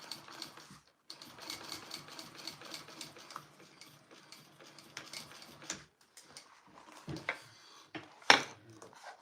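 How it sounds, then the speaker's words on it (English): A sewing machine stitches a bag seam in a quiet room, its needle running in fast, even bursts with brief pauses between, fairly soft and close, ending in a couple of louder clicks. "And I'm going to do a double row of stitching just like I did on my other one."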